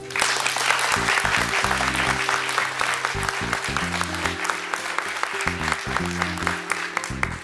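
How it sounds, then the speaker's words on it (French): Sustained audience applause at a New Year's civic address in Saint-André-les-Alpes, honoring the new Miss Alpes de Haute-Provence 2012; dense, steady clapping throughout with a low musical tone running underneath. "que je vous demande d'applaudir."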